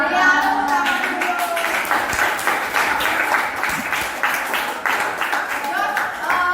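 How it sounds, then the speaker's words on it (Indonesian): A classroom of students clapping hands, a dense, lively burst of applause with voices chattering and calling out underneath, continuous for several seconds. "Iya, tepuk tangan dulu."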